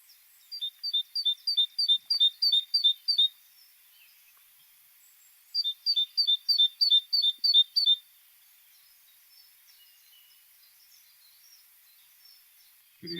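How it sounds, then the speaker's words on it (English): Great Tit song: two bursts of clear, repeated two-note phrases, about eight or nine notes each, loud and close, separated by a pause, with faint calls afterward. "Right, so the Great Tit song."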